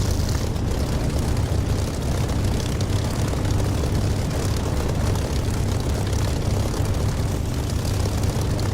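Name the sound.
aircraft engine before takeoff roll in DCS flight simulator game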